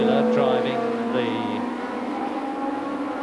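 The Tiger race car with a BMW works engine in a 1985 Thundersports race at Brands Hatch, a steady loud engine roar with rising and falling whine, under continuous commentary.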